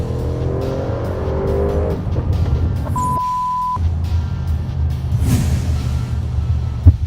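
An Audi RS7 accelerates hard on a road: loud engine roar with rising tones early on, then a steady, heavy drone with a brief beep partway through.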